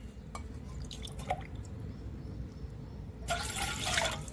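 Two cups of water pour into a bowl to mix dhokla batter, a soft splash and trickle rising near the end after a few light drips.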